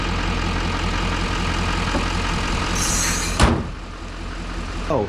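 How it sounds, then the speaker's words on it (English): A 2012 Chevy Duramax diesel pickup, just fitted with a new belt and alternator, runs with a steady close rumble, then a single sharp thump and a slightly quieter idle follow. "we're not going to really know until we start the truck."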